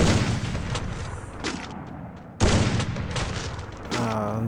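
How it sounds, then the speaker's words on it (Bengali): Gunfire from an AWM sniper rifle in Counter-Strike: heavy booming shots and echoing bursts across the clip, a sharp loud report near the middle, and a voice starting to talk at the end. "ডাব্লিউএমের একটা শট মারছি"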